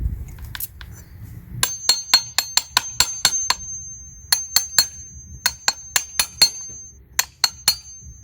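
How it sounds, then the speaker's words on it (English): Mud guard part for a 1989 Honda CRX being hammered flat, a run of sharp metallic clinks struck in quick bursts of several blows with short pauses between, close and loud. "So I gotta hit this, make it flat."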